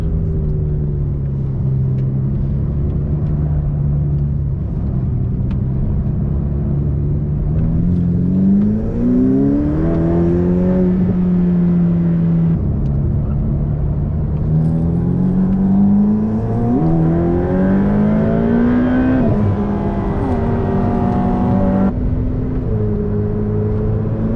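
Engine of a 2021 Ferrari F8 Tributo heard from inside while driving, a steady drone that repeatedly climbs in pitch through the gears and drops back, loud and continuous with no talking.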